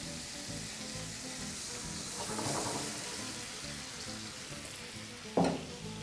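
Sugar and apples caramelizing in a hot pan, giving a steady, even sizzle and frying hiss throughout, moderately quiet, with a soft stir midway and a short clack near the end.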